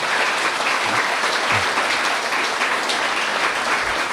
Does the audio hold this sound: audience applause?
yes